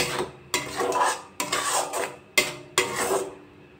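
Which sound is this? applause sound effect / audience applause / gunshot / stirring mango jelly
stirring mango jelly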